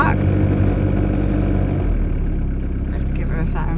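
Car engine running steadily just after being started, a loud, low idle rumble held throughout with someone talking over it.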